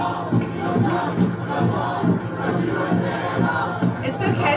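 A large protest crowd chants slogans in a rhythmic, repeated cadence, loud and massed voices rising and falling steadily throughout.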